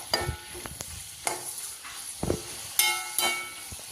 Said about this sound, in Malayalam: വെളിച്ചെണ്ണ ഒഴിച്ചു കൊടുക്കാം അതിലേക്ക് ചതച്ചു വച്ച ഉള്ളി വെളുത്തുള്ളി ഇഞ്ചി കറിവേപ്പില എല്ലാം ചേർത്ത് നല്ലോണം വഴറ്റിയെടുക്കാം